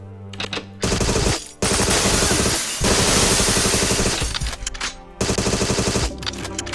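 Rapid automatic gunfire from a Goldeneye-style first-person shooter set in a facility level, unsilenced, coming in loud sustained bursts with short gaps between volleys.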